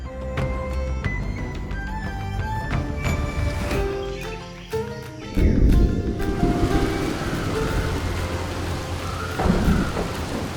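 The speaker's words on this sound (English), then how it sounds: "The first rainfall finally arrived, saturating leaves and soaking the thirsty ground." Heavy rain falls on leaves and ground in a forest, a dense steady hiss with rumbling thunder rolling underneath and swelling midway through.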